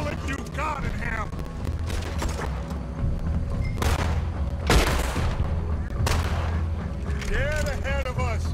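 Gunfire from the video game Red Dead Redemption: several loud, booming shots crack out over a few seconds while voices talk over the shooting.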